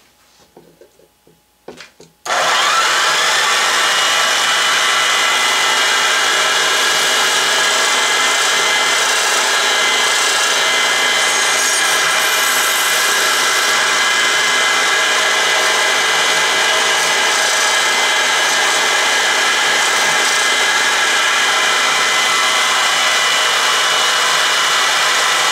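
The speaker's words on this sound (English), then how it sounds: "It's just a saber saw upside down, but it does work fairly well, leaves a relatively rough finish." Saber saw mounted upside down as a filing machine, working a rough lead flywheel casting: a brief clatter, then a loud, steady, continuous buzzing rasp that runs unbroken for over twenty seconds.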